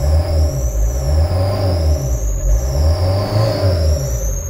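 A worn Fiat Ducato 2.8 with its Sofim 8140 engine revs loudly up close in a steady, throaty drone with gentle rises and falls. No one speaks over the engine.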